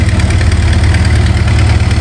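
A motorised rice boat's engine runs steadily on a river while pushing against the current, a loud, continuous, close chugging drone with a deep throbbing low end and no voices.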